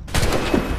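Gunfire from Assassin's Creed 3, a short loud burst of rapid overlapping shots with a rumbling tail, close and alone without talk.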